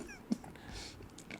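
A cat meows once in the Pinocchio film, a short close cry amid soft background film sound, with no talking.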